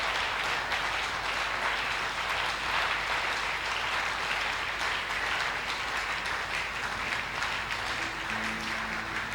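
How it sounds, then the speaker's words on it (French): Loud, sustained applause from a church congregation during a prayer service, steady clapping filling the room for about nine seconds without talk. "Betela ye maboko makasi."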